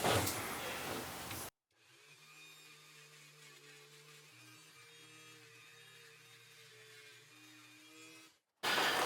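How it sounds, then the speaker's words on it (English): A Dremel rotary tool grinds and deburrs the top lip of a cast iron rotary engine housing, a steady high whining buzz held for about seven seconds, close and alone, with a sharp cutoff at each end. "I take the Dremel at a nice angle, just run across this top lip"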